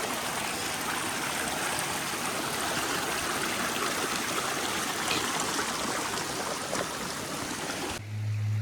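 Mountain creek on the Old Baldy Ridge trail in Kananaskis flowing steadily, a dense, continuous rush of water running close and loud for about eight seconds before cutting off abruptly.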